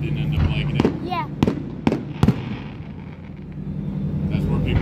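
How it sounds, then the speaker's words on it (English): Fireworks set off by people on the Fourth of July crack and thump as several sharp bursts a short way off, over steady traffic rumble from a car, with voices present. "People are setting off giant fireworks."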